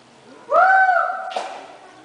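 A voice imitates an owl with a single drawn-out, wavering hoot, loud and close, fading into a breathy tail.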